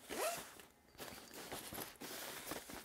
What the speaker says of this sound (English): just take the zipper and go all the way around